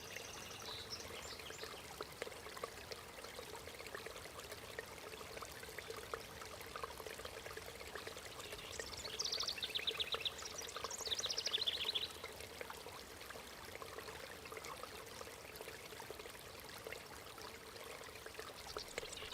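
Water runs steadily through old irrigation canals fed by mountain rivers and springs, a faint continuous trickling and pouring with a slightly louder burst of splashing midway.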